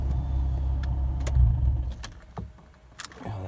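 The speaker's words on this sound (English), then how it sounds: "We can actually turn the vehicle off." A car's idling engine rumbles and then cuts off, leaving a loose exhaust part underneath to give a few sharp rattling clanks in the quieter air.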